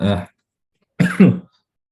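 Two short throaty bursts, a brief one then a harsher double burst after a pause, close and fairly loud, like coughing.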